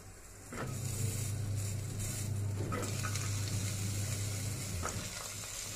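Potato, cauliflower and carrot drop into hot oil and start a steady sizzling fry, with a few clinks of stirring over the continuous hiss.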